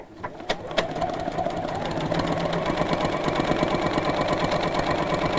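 A sewing machine stitches an outline of a rabbit shape on darker fabric, running steadily at an even, rapid pace, close and fairly loud with no talking.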